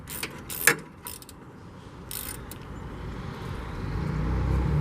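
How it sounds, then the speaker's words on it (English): A ratchet clicks in a few short bursts while tightening motor mount nuts on a 2000 Chevy Cavalier, followed by a rising low rumble of background noise. "Now I just tighten these last 3 nuts."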